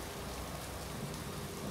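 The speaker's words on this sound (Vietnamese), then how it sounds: "Mưa ướt hết thế này" Rain falling steadily during a wet outdoor climb, a dense constant hiss of drops close by with no voices.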